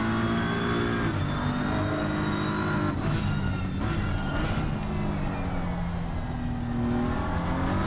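A sim racing car engine on the Misano circuit in a video game holds a high, sustained whine that sweeps up and down through gear changes, with no talk over it.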